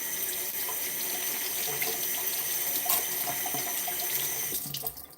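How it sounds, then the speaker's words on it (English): Water runs from a kitchen tap into a pan, a steady close hiss of flowing water that lasts several seconds and tapers off as the flow stops, with no talking. "put a little bit of water in a pan"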